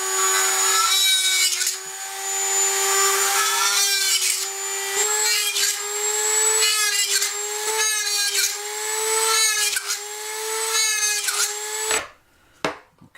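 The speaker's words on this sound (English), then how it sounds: "we're going to drill a random set of holes around here" A power drill whines at close range, boring a string of holes in a plastic aquarium filter, in short steady bursts with brief pauses, then cuts off near the end.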